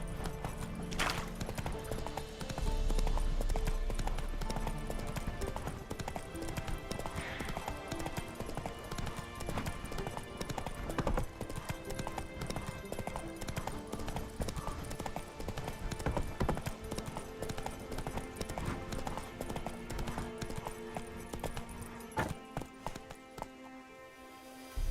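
Hoofbeats of Roach, the horse in The Witcher 3, run steadily under dense game music and ambience for the whole stretch, moderately loud and unbroken, without speech.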